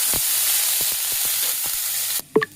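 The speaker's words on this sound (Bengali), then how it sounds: "এটা আমি একটু তেলে ভেজে নিব।" Sliced broad beans and potatoes fry in hot oil with a loud, steady sizzle, punctuated by several sharp spatula knocks and scrapes, before the sizzle cuts off abruptly and a brief utensil clatter follows.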